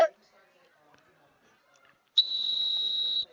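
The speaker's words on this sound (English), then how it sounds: "lot of whistles set for play." A referee at a junior varsity football final blows one sharp, sustained whistle lasting about a second. It comes after a quiet stretch that holds only faint background sound.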